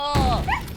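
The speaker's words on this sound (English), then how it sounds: "Ow, the dog is still on my arm." A dog gives a short whimpering yelp, a brief high whine bending downward then rising, close and loud, while clamped onto a man's arm.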